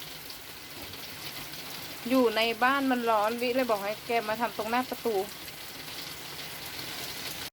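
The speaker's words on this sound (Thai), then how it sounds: "ข้างนอกฝนตกแรงมาก" Heavy rain falls outside a home as a steady, broadband hiss that continues throughout, with a person speaking close by over it.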